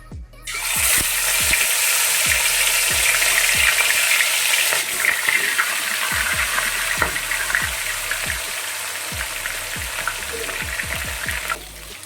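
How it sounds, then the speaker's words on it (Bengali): Fish pieces dropped into hot oil over medium-low heat, a loud, dense sizzle that bursts in and crackles steadily with sharp pops and spatters, close and without any talk. "দিয়ে মাছগুলো ছাড়বো, তাহলে তেলটা ছিটকাবে কম"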